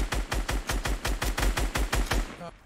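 Shotgun fire in an online shooter game comes as a rapid, evenly spaced string of about eleven loud blasts, each with a punchy low thump, ending abruptly.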